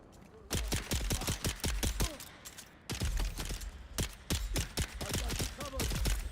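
Rapid bursts of gunfire in Dune Awakening, dozens of sharp shots in quick strings, loud and close, with a brief lull midway before the shooting resumes.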